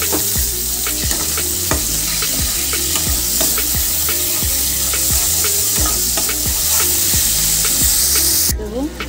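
Ginger paste fries in a pan and crackles with a loud, continuous sizzle, while a utensil scrapes and stirs in a regular rhythm. A final burst of hissing comes near the end as water is added.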